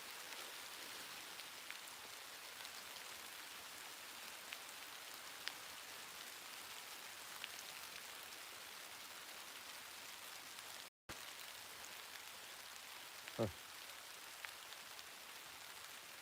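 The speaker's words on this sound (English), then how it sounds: "Is the rain gonna stop?" Steady rain falls outside, a soft, even hiss of drops that continues without a break, with one brief louder tap near the end and no talking.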